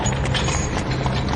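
Horses pulling a coach, hooves clip-clopping in a steady rhythm over continuous rolling noise, close and loud, with no talk.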